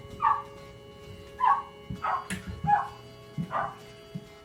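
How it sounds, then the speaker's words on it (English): Two dogs left outside in hot, direct sun bark in a series of five or six separate sharp barks, fairly close and clear with quiet gaps between them and no talking. "2 dogs left outside"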